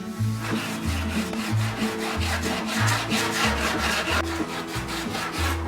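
A hard sanding block with 40-grit paper is rubbed by hand across a rusted 1957 Chevy fender in close, loud, rhythmic back-and-forth strokes, steady and unbroken with no voices.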